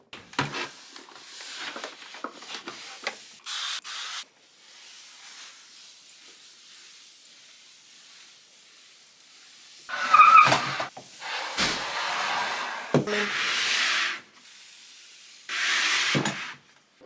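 Several short spray hisses and wiping rubs in separate bursts on laundry room surfaces, close by, with quiet gaps between them and no talking.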